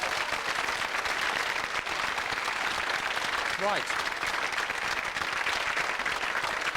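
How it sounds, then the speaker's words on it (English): A television game show studio audience claps steadily and fairly loudly, with a brief spoken word breaking through the applause. "I think you deserve another round of applause"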